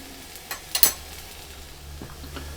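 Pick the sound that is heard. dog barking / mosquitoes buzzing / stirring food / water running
stirring food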